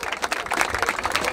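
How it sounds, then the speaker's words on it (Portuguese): An audience at the Batalha da Aldeia rap battle in Barueri, São Paulo breaks into applause, with a brief burst of crowd clapping at a steady, moderately loud level. "Palmas pra essa batalha!"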